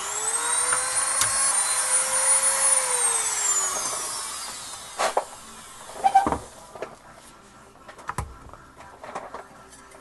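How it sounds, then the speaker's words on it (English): A Dremel rotary tool spins with a high, whining buzz while cutting an M14 rifle rail part, then winds down into scattered close knocks and handling clatter. "So let me cut this real quick. There's a Dremel tool."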